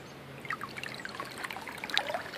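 Water trickling and splashing steadily from the outlet of a hydraulic ram pump beside a creek in cold weather, a close, continuous pouring dribble.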